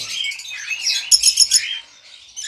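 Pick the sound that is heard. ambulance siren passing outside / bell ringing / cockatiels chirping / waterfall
cockatiels chirping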